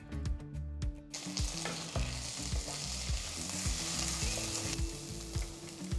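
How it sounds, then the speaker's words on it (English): Onions, slit green chilies and ginger garlic paste sizzle steadily in a hot pan for a mushroom masala, with a loud continuous frying hiss broken by repeated stirring scrapes and clinks; no voices. "Saute the onions till they are a nice golden brown color."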